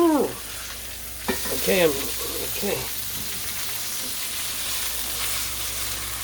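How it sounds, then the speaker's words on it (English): Steak frying in a pan, a steady broadband sizzle running throughout, with a short burst of talk near the start. "Look at that sizzle. That's what you want."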